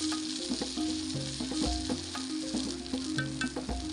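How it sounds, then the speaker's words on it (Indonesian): Ground spice paste sautéing in a pan beside a riverside campsite, a moderate sizzle with clinks of the utensil and a steady tonal hum running underneath, no speech. "lanjut untuk bumbu halusnya akan aku tumis dulu"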